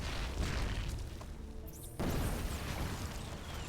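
Corrosive bile splashes bursting in a StarCraft match, a dense run of booming impacts and pops that swells again midway, loud and continuous with no one talking.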